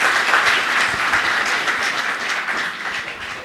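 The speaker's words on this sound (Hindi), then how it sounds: "एक बार तालियों से आदेशित करें।" Loud, dense audience applause welcoming a poet at a gathering at IIT BHU, continuous clapping close by that eases slightly toward the end.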